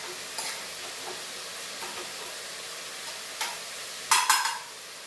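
Quiet, steady sizzling of grated coconut frying in a pan, broken by a few scraping stirs, the loudest near the end.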